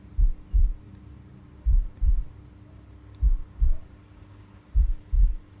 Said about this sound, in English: The sound of your beating heart.